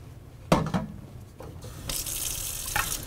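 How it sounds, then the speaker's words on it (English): Cold water runs from a kitchen tap over freshly cooked broccoli, a steady close-up splashing stream with a few louder gushes as the flow shifts, no talking. "or I'm going to run cold water over it."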